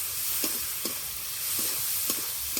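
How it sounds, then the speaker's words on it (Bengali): Spices and green chilli paste fry in oil under a steady, loud hiss, with a spatula scraping through them in a few periodic strokes close by and no one speaking. "আর দিয়ে দেবো কাঁচা লঙ্কা বাটা একসাথে কষে নেবো ভালো করে"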